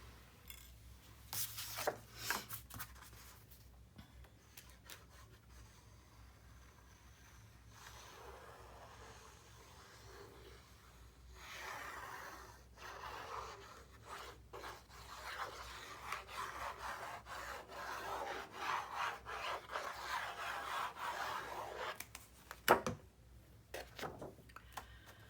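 Paper rubbed flat by hand to glue it down on a page of an 8.25 x 8.25 inch mini album, quiet close scraping and brushing strokes that grow more sustained in the second half.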